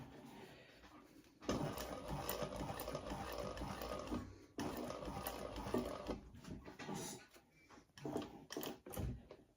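A sewing machine stitches a Luxy laptop bag in close, rapid runs, one long run then another, broken by brief pauses and handling clicks, with no talking.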